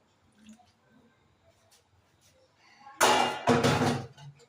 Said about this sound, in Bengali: আর একটু জল আছে, দিয়ে দিই